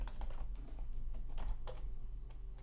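Keys clatter on a computer keyboard in short bursts of quick, light clicks, steady and close, with no voices over them.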